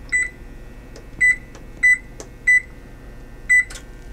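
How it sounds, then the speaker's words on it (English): An oven control panel being set to preheat to 420 gives five short, clear electronic beeps at uneven intervals, close by over faint background hiss. "we're going to preheat the oven to 420"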